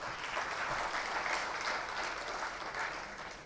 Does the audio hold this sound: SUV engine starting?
no